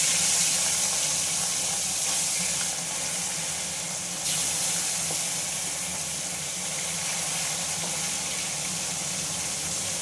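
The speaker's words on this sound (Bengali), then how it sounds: "এই তিনটে মাছও এবার আমি ভালো করে ভেজে নেব" Three fish frying in hot oil, a dense steady hiss that fills the whole stretch at close range, with no one speaking.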